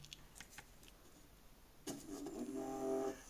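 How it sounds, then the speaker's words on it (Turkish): A small DC motor powered from a 5 V supply spins up and hums with a faint steady whine that rises for about a second before stopping, preceded by quiet clicks. "Gördüğünüz gibi motor dönmekte arkadaşlar."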